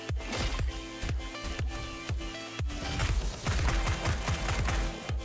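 Rapid, heavy gunfire in the fast-paced shooter Roboquest, a dense run of booming shots with bright metallic ringing, loud and continuous with brief gaps.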